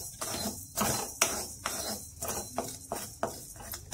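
Coriander seeds being lightly dry-roasted in a kadhai over a low gas flame, a metal spoon scraping and clinking against the pan in a loose rhythm of repeated strokes, close and moderately loud.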